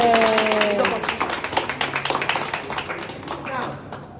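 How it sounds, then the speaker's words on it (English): A short round of clapping from a few people, rapid and fairly close, follows a brief moment of voices and then trails off. "you can give him an applause"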